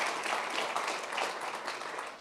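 An audience applauds at the close of a talk, steady dense clapping filling the whole stretch at a moderate, even level with no voices over it.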